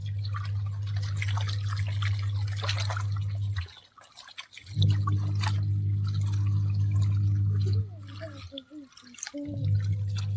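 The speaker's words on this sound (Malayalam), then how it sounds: "നമ്മുടെ പൊല്ല നമ്മൾ വൃത്തിയാക്കി എടുക്കുകയാണ് നന്നായിട്ട് കഴുകിയെടുക്കണം" Jackfruit pieces being washed by hand in water for a Kerala thoran, with close splashing, dripping and running water alongside a steady low hum, broken by brief pauses near the middle and toward the end.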